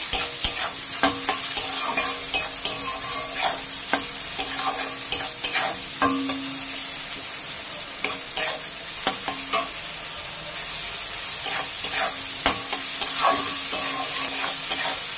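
Spice masala with salt and turmeric fries in a pan for a katla fish head and taro leaf dish, a steady sizzle punctuated by repeated sharp knocks and scrapes of a spatula stirring, close and clear.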